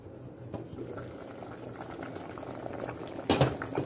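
Sausage and kale soup simmers in a pot, a steady bubbling boil that runs throughout at moderate level, with a louder burst of bubbles near the end.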